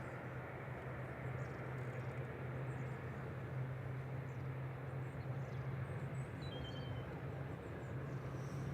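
An airplane departing Manchester Airport bound for Guernsey, a steady distant engine roar with a low hum, heard from outdoors with faint birdsong above.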